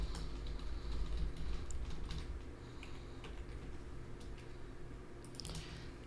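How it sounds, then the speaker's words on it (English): Fingers type on a computer keyboard, tapping out a quiet, irregular run of keystrokes over a low background hum. "And then we're going to go type this in."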